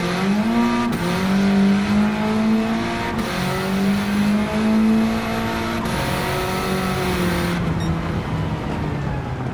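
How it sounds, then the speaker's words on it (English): Honda Civic Type R, a 508 hp EK build, in Gran Turismo 7 with a loud, steady engine note that drops in pitch as the car slows under heavy braking, with faint tire noise and no talk. "I'm gonna really put my foot in on these brake pedal to slow this car down."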